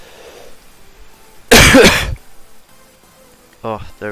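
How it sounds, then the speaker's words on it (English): A single loud, close cough bursts out mid-clip against a quiet room, followed moments later by a short spoken voice. "I can cough."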